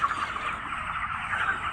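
A dense, continuous chatter of many chickens clucking and murmuring together, steady and fairly loud, with no one speaking.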